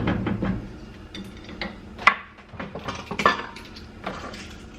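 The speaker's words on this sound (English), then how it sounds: "And then I'm just gonna stir this around real quick." Keto ramen ingredients stirred in a pot, with a utensil scraping and clinking against the metal in irregular knocks, a couple of sharper clanks standing out.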